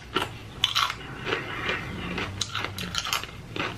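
Crunchy popcorn being bitten and chewed up close, with irregular crisp crackling bursts recurring throughout, no talking.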